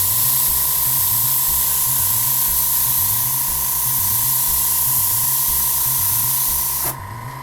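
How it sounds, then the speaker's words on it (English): An airbrush sprays paint in a steady, loud hiss that holds continuously for about seven seconds, with a faint low hum beneath, before dropping off sharply near the end. "Maintaining the airbrush while spraying is a great thing to learn as you're painting."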